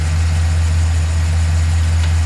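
A 2010 Chevrolet Silverado with a 4.8 liter Vortec V8 idles steadily, a loud, even low rumble with a constant hum and no speech over it.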